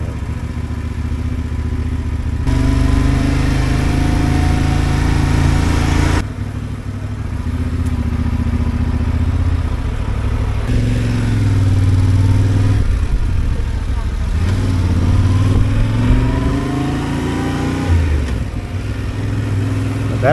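A Yamaha Tenere 700 motorcycle rides along a road in Quebec, its steady engine drone and road rumble running continuously beneath someone talking throughout.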